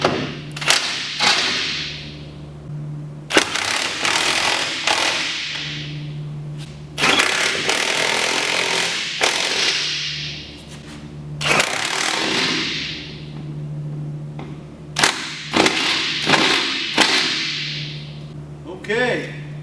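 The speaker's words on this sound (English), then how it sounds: "take my impact wrench and run them up." An impact wrench runs nuts up on a tiny house trailer, giving several short loud bursts of whirring hammering, spaced apart with quieter gaps between.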